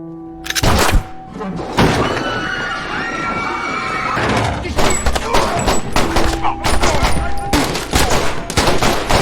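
A World War II shootout sound effect: dense, loud bursts of rapid gunfire and sharp impacts, pausing briefly and then resuming over a sustained background score.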